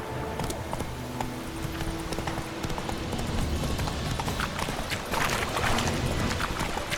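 Hooves of Roach, the horse in The Witcher 3, drum in a fast, continuous galloping clip-clop, close and loud over game ambience.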